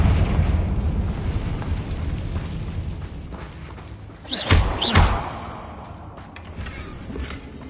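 Confringo spell explosions in Hogwarts Legacy, heard as two booming bursts in quick succession over a dense, rumbling game soundscape, with no talk.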